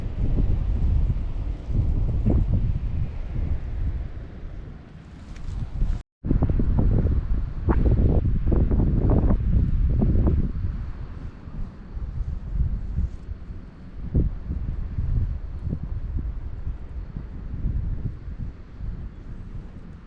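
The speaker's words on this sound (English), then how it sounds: "Beautiful day, minus the wind." Strong wind gusting outdoors at a bee yard on an early spring day, a loud, continuous rumbling buffet on the microphone that surges and eases throughout, with one brief dropout partway through.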